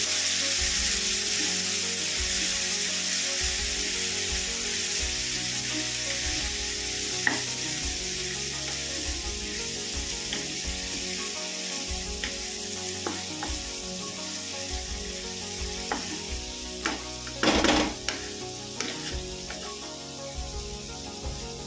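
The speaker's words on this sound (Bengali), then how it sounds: "টমেটো কুচি ভালো করে আলুর সাথে ভাজবো" Chopped tomato and onion frying with potatoes in a pan, a steady sizzle with occasional stirring scrapes and a brief louder burst near the end, heard alone.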